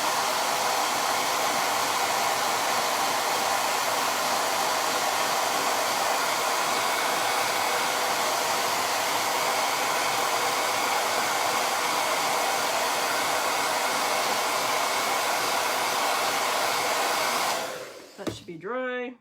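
A hair dryer blows a constant, loud whoosh while drying a craft project, then switches off with a quick falling whine near the end.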